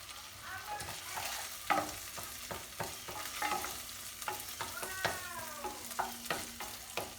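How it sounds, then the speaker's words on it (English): Rice stirred in a pan while vermouth cooks into it, a soft sizzle under repeated scraping strokes of a spoon, with some clinks and short tonal squeaks along the way. "Going to stir that until that vermouth is all gone, soaked up by that rice."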